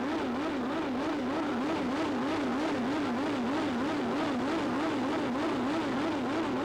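A turbocharged drag racing car at a 1986 IDBA event in Warner Robins, Georgia, roars steadily down the strip, a continuous loud engine drone with a rapid wavering pulse and no voices.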